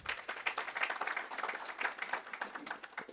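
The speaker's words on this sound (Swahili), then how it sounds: "Tumpigie makofi tena" An audience applauds at the Missing Voices 2024 report launch, a dense, fluttering mass of clapping hands that stays fairly even throughout and sounds somewhat distant.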